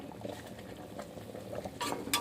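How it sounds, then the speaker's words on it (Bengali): Potato dal bubbles in a pot on the stove, a soft, steady simmer of small pops and gurgles, close and faint, with a couple of brighter splashes near the end. "আলু ডাল আমার ফুটে গেছে, এখন ভাজা চিংড়ি দিয়ে দিচ্ছি,"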